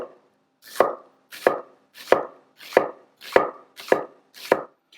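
Red onion being chopped with a knife on a cutting board for salsa, seven evenly spaced crisp knocks, close and distinct against silence.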